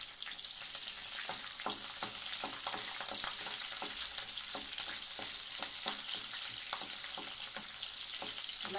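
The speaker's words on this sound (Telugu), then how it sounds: "పచ్చిమిరకాయలు వేసుకుందామండి ఫస్ట్" Green chillies frying in hot oil as the first step of a chicken curry, a constant bright sizzle with rapid crackling pops throughout, close and steady with no speech.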